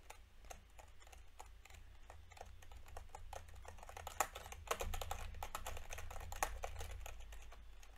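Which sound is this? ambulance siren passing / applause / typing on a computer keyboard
typing on a computer keyboard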